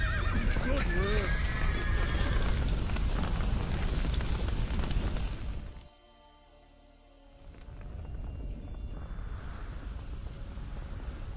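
A horse whinnies loudly up close in The Witcher 3 amid hoofbeats, crackling fire and wind, with voices talking over it, then a brief hush before the roar of the scene returns.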